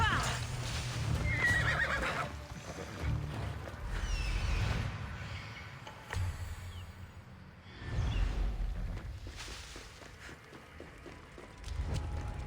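A horse being ridden in Assassin's Creed Odyssey, with repeated loud neighs and whinnies over steady clip-clop hoofbeats at close range and occasional swishing movement sounds.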